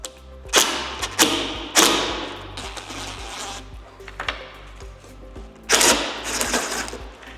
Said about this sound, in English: Next, we'll take out the 4 screws. There's 2 on each side of the radio.